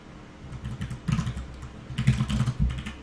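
Clicky computer keyboard typing in irregular bursts of quick keystrokes, close and fairly loud, with brief pauses between flurries.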